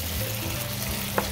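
Tomato paste and sauce frying in oil for lamb lagman, a dense close sizzle with a single sharp clack of a utensil near the end.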